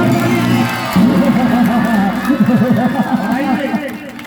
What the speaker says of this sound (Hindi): एक बार ताली बजा दीजिए कलाकारों के लिए, जोरदार